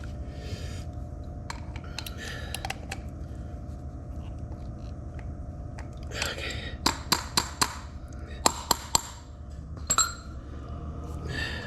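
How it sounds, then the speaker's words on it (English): A wrench being worked off an oil filter on a Polaris Hawkeye ATV during an oil change, giving a run of sharp metallic clinks and taps over a steady background hum, clustered toward the end. "this is always the fun part, getting the wrench back off."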